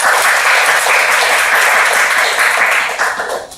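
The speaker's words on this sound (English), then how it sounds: "So please give her a round of applause." Loud, close applause from an audience at a Toastmasters club meeting, a dense wash of clapping that holds steady before tapering off at the end.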